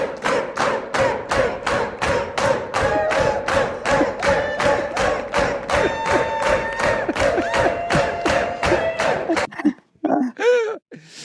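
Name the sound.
Romanian crowd at rock club shouting for an encore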